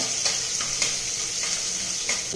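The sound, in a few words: ginger garlic paste sizzling in hot oil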